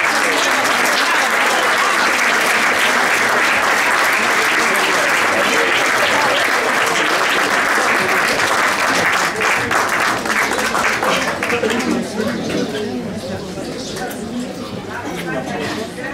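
Audience applause following a choir performance in Neuquén, a dense sustained clapping that fills the room, loud at first and then thinning and fading toward the end, with faint voices mixed in.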